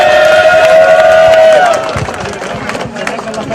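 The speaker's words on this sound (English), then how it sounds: "Your round of applause, I think," A crowd at a Gaza protest in Northampton gives the organisers a round of applause, a rush of clapping and cheering that rises after a loud, steady whistling tone at the start.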